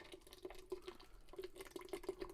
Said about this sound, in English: I am going to hit up more vinegar in the base